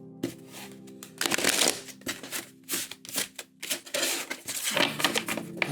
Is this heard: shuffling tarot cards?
yes